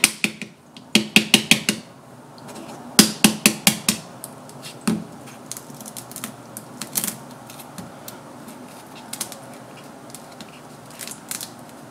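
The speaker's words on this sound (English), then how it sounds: "I'm going to crack the egg." Sharp clustered taps and cracks as a boiled egg's shell is cracked, several quick bursts of knocking followed by scattered lighter crackles and small clicks, close up with no talking.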